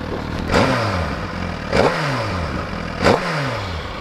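A 2015 Suzuki GSX-R 1000 sport bike engine idles close by and is blipped three times at even intervals, each sharp rev rising and falling back to a steady idle, with no one talking.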